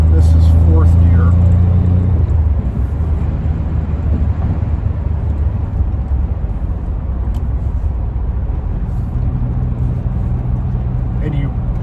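A 1989 Maserati 430 with a five-speed manual accelerating hard in fourth gear, its engine a loud, steady rumbling drone heard from inside the car.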